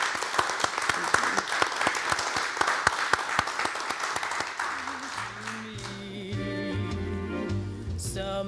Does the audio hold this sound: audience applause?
yes